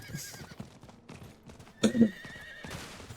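A horse in the video game Diablo 4 whinnies loudly in a sharp burst, with quieter clip-clopping hooves and soft background sounds around it.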